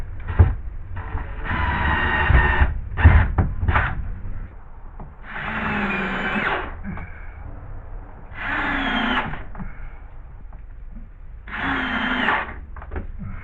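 A power drill drives screws through small angle brackets, several bursts of buzzing whine with rising pitch as each screw seats, separated by short pauses and handling knocks.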